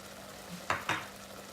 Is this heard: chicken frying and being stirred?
yes